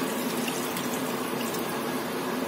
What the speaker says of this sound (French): vous venez me mouiller avec de l'eau à hauteur pour bien que ça vienne recouvrir